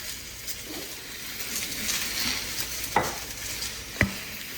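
Zucchini for a vegan Chinese stir-fry sizzles quietly in a pan under soft stirring scrapes. A few sharp clinks of a utensil against the pan stand out near the end.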